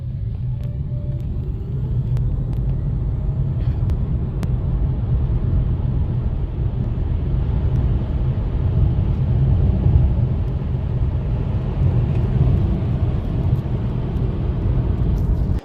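Seres 3 electric SUV accelerating hard from 0 to 100, a steady low road rumble and tyre roar holding loud and even throughout with no voices.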